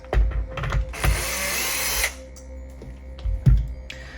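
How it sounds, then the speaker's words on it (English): Power screwdriver removing screws from the case of a Hercules DJ Starlight controller, a short, loud whirring burst of about a second, set between quieter clicks and knocks of handling the unit. "Now we can release all the screws."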